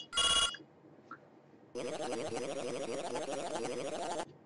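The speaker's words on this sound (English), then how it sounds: "Oh, phone's ringing." A telephone rings in a retro video game: one short bright electronic ring burst, a pause, then a longer warbling chiptune-style ring that trills steadily for a couple of seconds, clear and up close.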